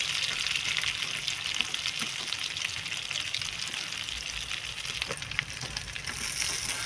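Stuffed brinjals frying in a pan as a steady, dense sizzle and crackle with faint spatters throughout, heard close with no talking.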